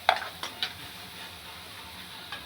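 Oil fries in a pan with a faint, steady sizzle, broken by a few light clinks and stirring taps of utensils.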